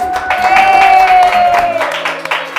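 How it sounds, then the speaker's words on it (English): Studio audience applauding a school spelling champion on a children's quiz show, brisk clapping under a sustained tonal music sting that fades near the end. "Another round of applause for Pauline."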